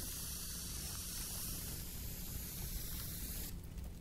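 A steady, close hiss of spray paint in the Teardown game runs for a few seconds without pause, with no talking.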